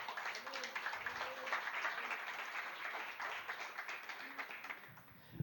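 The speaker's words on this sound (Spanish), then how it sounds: "vamos a darle un fuerte aplauso al Señor" A church congregation applauds in dense, continuous clapping that fills the whole stretch, with voices faintly mixed in, fairly quiet overall.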